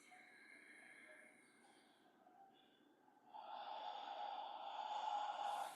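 Deep breathing during a therapeutic yoga session: a slow inhale followed by a louder, longer breathy exhale, heard up close.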